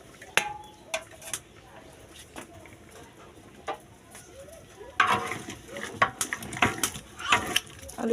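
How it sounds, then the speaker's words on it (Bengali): Potatoes are added to a cooking pot and stirred, making sharp metallic clinks and scrapes. The first half is sparse and the second half is busier and louder, with a steady faint background hiss and no talking. "আলুটা দিয়ে নাড়াচাড়া দিয়ে ঢাকনা দিয়ে দেব।"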